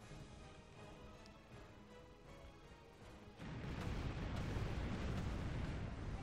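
Pirate ship cannon fire in the video game Tempest: a low rumbling backdrop, then a sudden loud broadband boom that swells into a sustained roaring barrage for the last few seconds.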